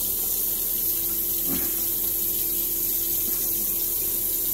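Tap water runs steadily into a basin as someone rinses off, a continuous close hiss of flowing water with no talking.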